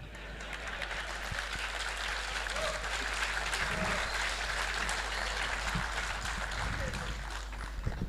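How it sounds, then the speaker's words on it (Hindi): Sustained audience applause fills a hall through the whole stretch, steady and fairly loud, a dense wash of clapping after a speech at a political talk, with a low hum underneath. "आप लोगों ने तालियां बजाई"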